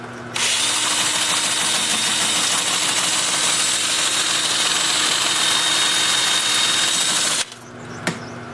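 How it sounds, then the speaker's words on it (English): Wood lathe turning a rhododendron root bowl at 350 RPM in reverse, a steady, loud mechanical hum and whir that runs unbroken for about seven seconds before cutting off, followed by a faint click. "The lathe is spinning at 350 RPM in reverse."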